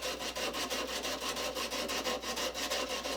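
A wooden handsaw handle is sanded with 150 grit sandpaper glued to a paint-stirring paddle, a close, rhythmic scratching in quick back-and-forth strokes, about five per second, with no voices.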